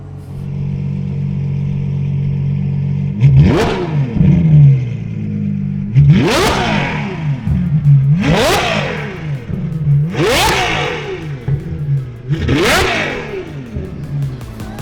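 A Ferrari 812 Superfast with a straight-pipe Novitec exhaust, valves open, idles with a low burble, then revs hard five times in regular bursts, each roaring up sharply and crackling as it drops back.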